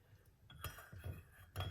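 A spoon stirs honey into banana peel tea in a cup, giving a few light clinks and taps against the sides in short, close bursts.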